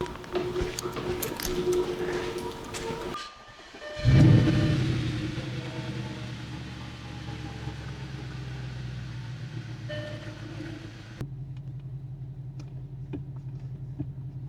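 Audi S5 engine cranking and catching at about four seconds with a loud low burst, then settling into a steady, even idle rumble that drops slightly quieter near the end, close by in a workshop setting.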